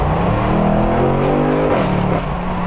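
A BMW 8 Series with twin-scroll turbo accelerates hard in sport mode, a loud close engine roar with climbing revs and a gear change midway, no talk.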